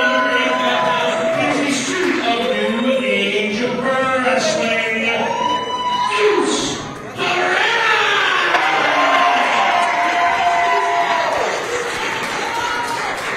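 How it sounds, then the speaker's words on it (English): A large wrestling crowd roars and cheers continuously, with swelling waves of shouting and chanting voices filling a big arena. "So the crowd seems a little split down the middle."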